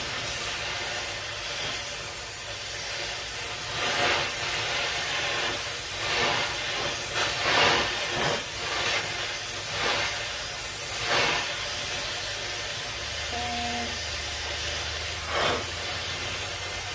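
A torch heats the ball joint of a Peterbilt 379 drag link, giving a steady, loud hiss that runs throughout with brief flaring bursts and a faint tonal blip near the end, with no talking.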